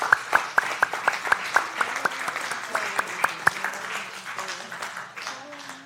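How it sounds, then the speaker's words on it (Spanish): A church congregation claps for the Lord during a Spanish-language service, sharp hand claps arriving in a quick rhythmic burst, then thinning into scattered claps beneath a preacher's voice. "Dele palmas al Señor."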